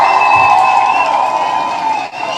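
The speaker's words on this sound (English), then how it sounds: "let's give camera chick a round of applause" Audience at a live comedy show cheering and clapping, a loud sustained crowd roar of mixed voices and applause that holds steady for a couple of seconds before briefly dipping.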